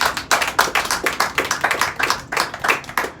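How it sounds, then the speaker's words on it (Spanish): A church congregation claps in quick, steady rhythm, the sharp hand claps loud and close, with no talking. "Dele palmas al Rey de la Gloria."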